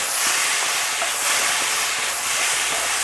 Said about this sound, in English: now we can start to stir everything together and toss it